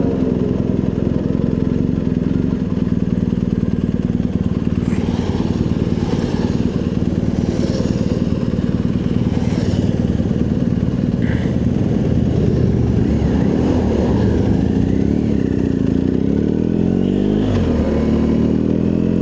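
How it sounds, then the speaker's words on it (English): A group of motorcycles rolls past on a road, loud engines droning close by with several rising and falling passes and revving surges over a steady low rumble. "we'll just pull over and let these bikes pass"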